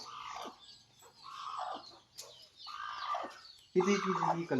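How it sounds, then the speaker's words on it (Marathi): A broody hen clucks in short, harmonic bursts, about four calls spaced across a few seconds, close and moderately loud, with a louder, busier burst at the end. "ही आपली खुड कोंबडी आहे"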